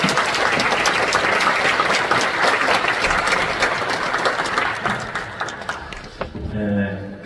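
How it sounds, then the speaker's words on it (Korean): Dense, sustained audience applause at an award ceremony held in a church, welcoming a pastor to the podium. It continues loudly for about six seconds and then fades as a voice begins speaking. "여러분 뜨거운 박수로 환영해 주시기 바랍니다."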